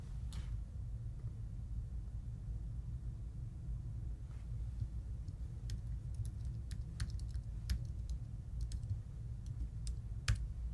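Scattered clicks of a computer keyboard as credentials are typed, faint and irregular over a low steady room rumble.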